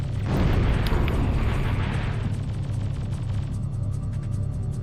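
Vulcan cannon fire and explosions in a video game erupt as a loud, dense roaring blast that dominates the first two seconds, then thins into a lingering rumble.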